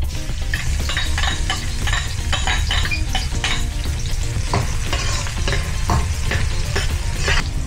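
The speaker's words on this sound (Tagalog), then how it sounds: "Ibabrow lang natin konti itong garlic." Garlic browns in hot oil at the start of a camel-meat caldereta, a loud, continuous close sizzle broken by repeated scrapes and clinks of a utensil stirring the pan, with no talking.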